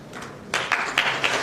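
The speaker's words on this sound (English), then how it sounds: "Please give a big round of applause." Applause from a conference audience in a college hall, starting faintly then swelling into a burst of clapping that continues steadily, fairly close and moderately loud.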